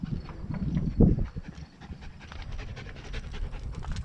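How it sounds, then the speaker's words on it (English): A puppy pants in quick, rhythmic breaths close by, with a brief louder huff near the start and a low background rumble. "It's a puppy."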